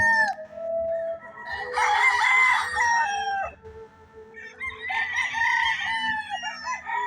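Young fighting roosters (stags) at a gamefowl farm crow loudly and close by, with two drawn-out calls separated by a short pause and some softer clucking between them.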